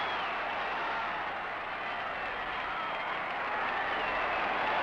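Huge crowd at a baseball game applauding and cheering, a dense, sustained wash of clapping that stays loud and even for several seconds without pause.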